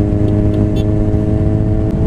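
A motorcycle engine runs steadily nearby at Lake Shore during a ride in Subic, a loud continuous low rumble with slight revving throughout.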